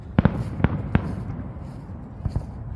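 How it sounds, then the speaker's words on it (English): Backyard fireworks on the 4th of July, a scattering of sharp bangs and pops, several in quick pairs and some fainter, over a constant outdoor background hiss. "We're watching the fireworks for like their pre-celebration of the 4th of July."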